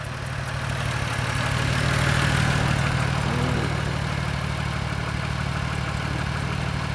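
A 2003 Mazda 6 engine idles steadily just after a throttle body replacement, a continuous low hum that stays even throughout with no talking.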